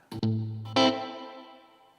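An electric guitar played through a Bad Cat boutique amplifier with reverb: a quick pick, a sustained low note, then a brighter chord ringing out and slowly fading, close and alone.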